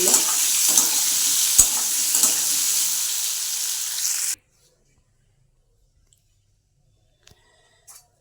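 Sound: frying potatoes in hot oil

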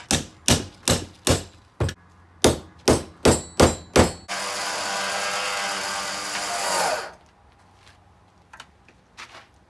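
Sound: hammering rivets into Factor 55 Ultra Hook rope guard

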